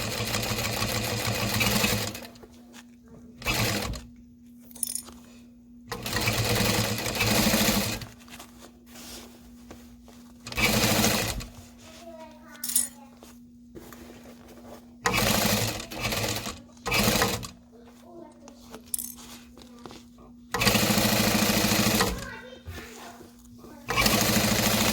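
A sewing machine stitches a backpack in repeated bursts of fast mechanical whirring, close and loud, broken by short pauses, with a person talking between runs.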